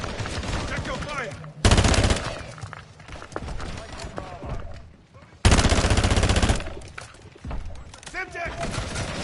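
Video game gunfire in Modern Warfare III, with two long bursts of loud, rapid automatic fire and scattered shots between them. Voices call out over the shooting.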